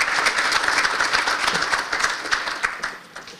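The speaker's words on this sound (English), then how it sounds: "I think that deserves another round of applause there as well" Applause from the audience at a chamber of commerce association's semi-annual meeting, a dense, steady patter of many hands clapping together that holds for several seconds before tapering off slightly at the end.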